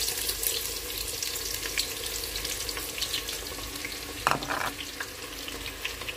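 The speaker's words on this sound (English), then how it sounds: "So now we have our oil heating up. We're adding our sliced onions." Sliced onions drop into hot oil for a Nigerian beef stew, giving a steady close sizzle and crackle, with one brief louder scrape of a utensil partway through.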